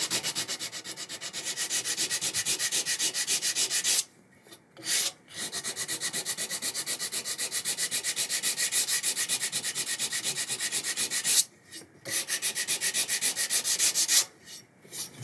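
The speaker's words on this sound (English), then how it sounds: "then I come in with just a hard block as a backing pad and some sandpaper and just level it" Sandpaper on a hard backing block levels the repaired finish on a guitar peghead, a steady close rasping in long continuous strokes broken by two short pauses.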